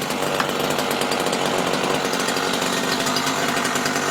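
A Stihl hedge trimmer's small engine running steadily after a restart on fresh fuel without choke, a loud, close, buzzing drone that holds even.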